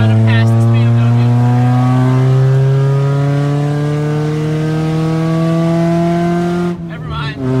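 A ProCharged V6 Mustang accelerates on a busy highway while trying to pass a BMW. Its loud, continuous engine drone climbs slowly in pitch, then falls off abruptly near the end.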